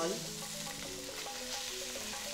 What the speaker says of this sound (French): À présent, je mets les morceaux de viande dans une casserole.